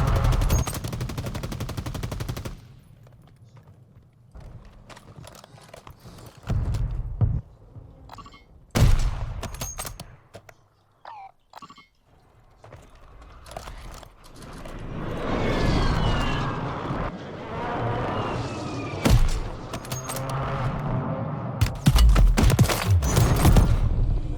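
Bursts of automatic gunfire and single shots from the Call of Duty Warzone video game, loud and close, coming in irregular clusters with quieter gaps and a steady engine-like drone underneath.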